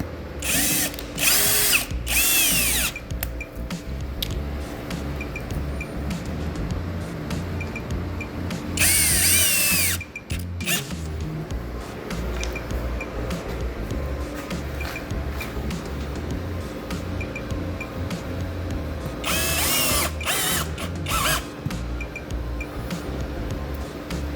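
A power drill drives small screws through piano hinges into plywood, with repeated bursts of high whining motor and ratcheting clicks between steady workshop noise, loud and close.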